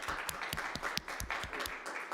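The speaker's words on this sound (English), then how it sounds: "let's give Ozan a bit of an applause" A small audience at a student network national assembly gives a fairly faint round of applause after a presentation, with scattered, individually distinct claps rather than a dense roar.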